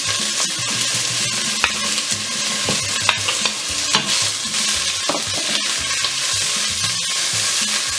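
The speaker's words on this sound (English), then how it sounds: "So my pot is already hot. I'm just going to fry my onions first." Onions frying in an already hot pot for bolognese sauce, a loud dense sizzle running throughout, punctuated by repeated scraping stirs and clicks of a utensil, close and without talk.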